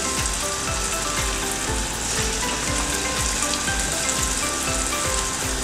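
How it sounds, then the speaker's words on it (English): Coconut puff-puff dough balls frying in hot oil, shaped by hand, giving a steady loud sizzle with dense crackling and popping throughout, with no talk over it. "Now my mum is about to fry the puffpuff using our hands the traditional way."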